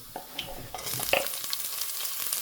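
Onion goes into garlic frying in a pan for a sherva fish curry. A quiet stir is followed by a rising, hissing sizzle that continues steadily, with soft scraping and nobody speaking.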